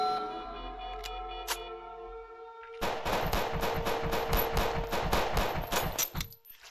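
Rapid automatic gunfire in the space-station game Space Station 14, a long burst of evenly spaced shots, loud and close, preceded by a few sparse clicks and tones, with no voice.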